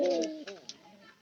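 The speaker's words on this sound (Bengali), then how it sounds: "আমার এই যে দ্বিতীয় খয়ের কবুতরটা কিন্তু অনেক লক্ষ্মী।" A second brown pigeon coos softly, with a single low rolling call in the opening half second followed by fainter trailing murmurs, close and alone.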